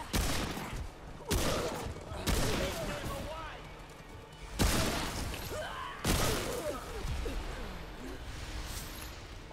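Gunfire in the video game Remnant II, several sharp loud shots and bursts spaced a second or two apart over a noisy, rumbling battle backdrop, with a person talking intermittently.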